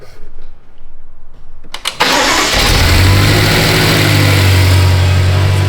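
A heavily worn, modified BMW M5, recently repaired after engine failure, cold-starts with a cranking burst before catching into a loud, steady, high idle that drones on close to the microphone.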